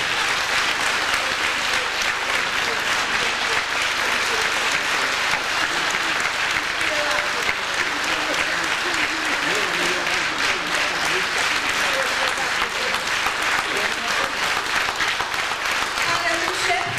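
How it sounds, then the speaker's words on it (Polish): Steady, dense applause from a large audience fills the whole stretch, loud and even without a break. "Gorące brawa."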